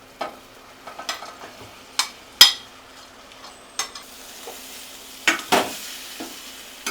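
Paneer being stirred into masala frying in oil in a pan, with a soft sizzle under scattered scrapes and clinks of the spoon against the pan.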